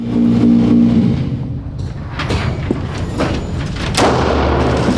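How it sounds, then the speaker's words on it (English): A few sharp gunshots go off downrange at a shooting range, spaced about a second apart over a rumbling background. "put 2 shots down range"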